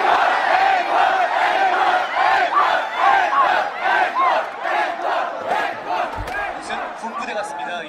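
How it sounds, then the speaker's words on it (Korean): A large concert crowd at a university K-pop show chants rhythmically for an encore, loud massed voices rising and falling in repeated pulses for about eight seconds. "그럼 더 큰 힘찬 앵콜의 함성이 필요합니다"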